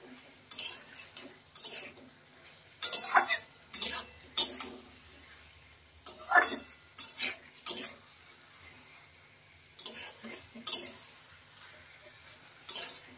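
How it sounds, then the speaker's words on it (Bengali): Fish curry being stirred and sautéed in a pan over a medium flame: sharp metal spoon scrapes and clinks against the pan come in irregular bursts over a faint low sizzle, close and fairly loud, with no talking. "এবার ভালো করে সবকিছু দিয়ে মিশিয়ে কষাবো।"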